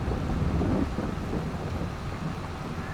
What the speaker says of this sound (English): the sound of thunder makes it sound like it's going to downpour here in a little bit